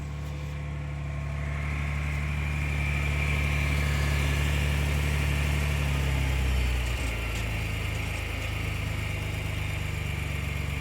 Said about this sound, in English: I'm going to start the engine so that I can check for any leaks